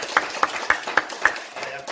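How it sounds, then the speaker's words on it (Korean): An audience at a Daejonggyo religious lecture gives a short, evenly spaced burst of about five sharp claps, fairly close and clear, with a quiet room behind them. "박수 한번 칩시다"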